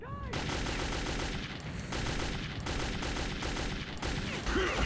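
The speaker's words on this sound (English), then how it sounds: "I'm getting shot at from above." Rapid, dense gunfire from above in the Metro 2033 video game, loud continuous bursts of shots crackling without pause throughout.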